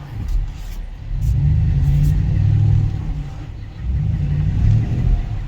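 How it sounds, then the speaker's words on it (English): Engine of a 2022 Ram 1500 pickup labouring up a hill, a deep rumbling drone that surges, eases briefly, then surges again, with some faint background noise. "then it bites and pulls on up the hill."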